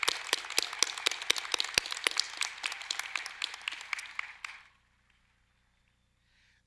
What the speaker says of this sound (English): Let's have another round of applause for all of our graduates.